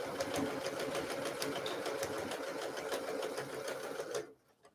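A sewing machine runs steadily, stitching a quilt block with a rapid, even mechanical whir that stops abruptly near the end.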